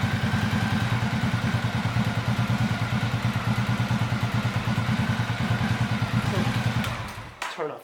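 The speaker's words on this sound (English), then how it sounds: "Now when you turn on the ignition, it's hard to hear in the camera, but this is continuously running and the bike starts right up." A 1985 Honda Shadow VT700 motorcycle's engine runs steadily up close with an even, throbbing idle pulse for about seven seconds, then cuts out abruptly near the end.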